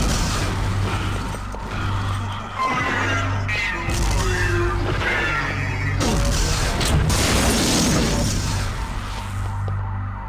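Grenade explosions in the video game System Shock 2 come as repeated loud booms and crashes, layered with mechanical noise and dense game effects across the whole stretch.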